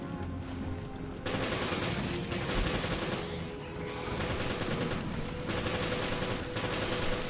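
Rapid automatic gunfire in the video game Resident Evil Revelations, dense bursts of loud shots that stop and restart several times, each burst lasting a second or two with short gaps between.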